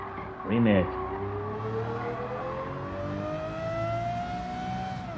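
A Lamborghini engine in Gran Turismo 7 hums steadily, its pitch rising slowly as the car accelerates, following a brief louder rev near the start.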